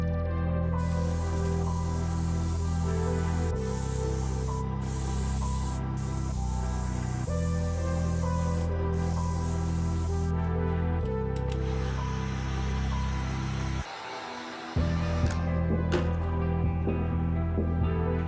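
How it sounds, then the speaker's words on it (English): A steady hiss of an airbrush spraying Jacquard Dynaflow dye continuously onto a leather sneaker, close up, with a constant mechanical drone beneath it and a few brief pauses. "We're gonna be laying it down with the airbrush."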